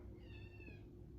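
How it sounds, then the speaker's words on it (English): A single short meow from a house cat, faint and a little distant over a low background hum, lasting under a second. "do you hear the meowing?"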